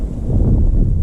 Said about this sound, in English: I know the wind's blowing